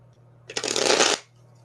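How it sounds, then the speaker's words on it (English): A deck of tarot cards is riffled once, a single crisp flurry of flicking card edges close by, lasting under a second against a quiet room hum. "One more shuffle here."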